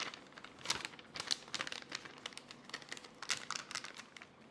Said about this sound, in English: Cut your piping bag and place your tips in it.